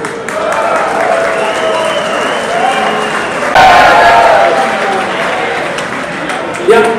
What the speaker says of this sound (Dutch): 1 applaus voor jullie zelf.